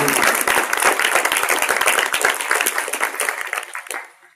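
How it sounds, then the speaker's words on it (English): An audience at a Hinrich Foundation event breaks into a round of applause, loud and close, with distinct claps in a dense burst that tapers off over about four seconds. "may I ask everyone a big round of"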